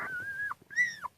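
Six-day-old newborn puppies with eyes still closed whimpering softly, two thin, high drawn-out whines in quick succession, close and faint in an otherwise quiet room.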